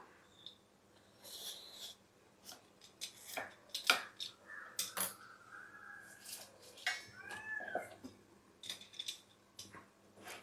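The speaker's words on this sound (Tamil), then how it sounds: "சுரக்காவை வந்து பாதியாக கட் பண்ணிக்குவோம்" Irregular crisp knife chops and scraping cuts through a bottle gourd on a board, close up, with rustling handling noises between strokes and no talking.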